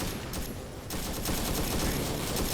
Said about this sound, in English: Here's that gunfire.